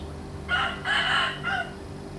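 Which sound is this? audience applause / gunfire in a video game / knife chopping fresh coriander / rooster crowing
rooster crowing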